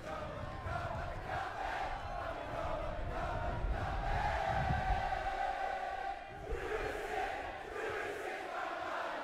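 A large wrestling crowd sings along to an entrance song as a loud, massed chant that swells and holds with a tonal, melodic quality, then briefly dips before coming back.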